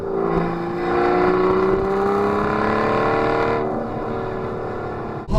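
Aston Martin Vanquish with a 568-horsepower V12 engine revving, a loud sustained roar that climbs steadily in pitch, holds, then cuts off abruptly near the end.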